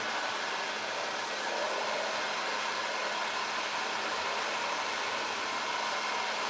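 A hair dryer drying paint blows with a steady, loud, broadband whoosh that stays constant throughout, with no voices.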